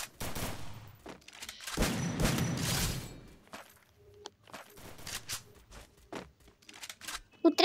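Gunfire in the video game Free Fire, with bursts of shots and a dense, loud volley in the middle, then scattered sharp reports and footstep-like sounds, with a heavy crack at the end.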